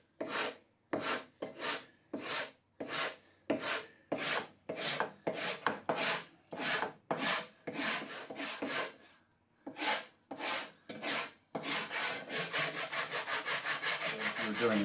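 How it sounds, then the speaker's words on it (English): A hand rasp files a wooden board for a reloading bench. About a dozen distinct scraping strokes come at a steady pace, then quicken into fast, nearly continuous rubbing. The sound is close and moderately quiet. "I'll just have to take a little bit more off with the rasp"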